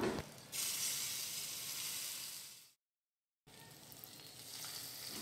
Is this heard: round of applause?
no